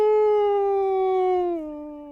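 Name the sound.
dog howling, sound effect in podcast narration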